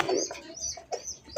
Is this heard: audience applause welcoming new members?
no